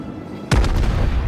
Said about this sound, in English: I fire off, but my secondaries end up killing them for me.